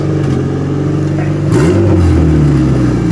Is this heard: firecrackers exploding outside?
no